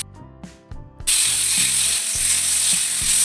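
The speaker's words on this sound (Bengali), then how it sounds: "এবার আলুগুলো একটু কষে নেব।" Potatoes hit a pan of frying spices: a second of quiet clinks, then a sudden loud, sustained sizzle that stays close and even, with faint ratcheting stirring noises below.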